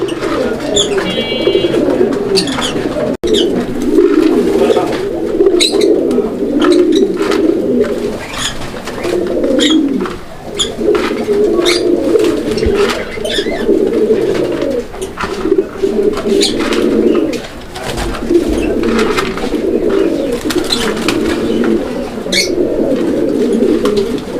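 Pigeons coo steadily and continuously throughout, a dense low murmuring chorus from a flock of large roller and fancy pigeons at a breeder's loft, with brief pauses around the middle and no talking.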